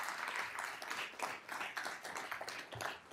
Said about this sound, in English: Another round of applause for County Executive Ed Romaine.